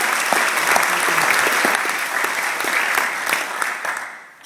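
An audience claps after a speech, a loud, close burst of many hands with some distinct individual claps standing out, fading toward the end.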